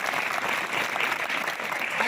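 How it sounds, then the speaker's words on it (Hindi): An audience claps continuously at a school annual function at a higher secondary school in Panautha, Chhatarpur. The applause is dense and steady and lasts the whole stretch, with no talking. "बजा दो एक ताली हमारे लिए।"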